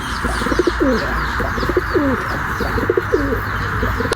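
Pigeons coo repeatedly in soft, rolling phrases, close by, with faint chirps and a steady background hum.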